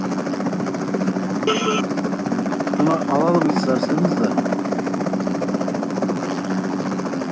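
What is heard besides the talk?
helicopter in the video game PUBG Mobile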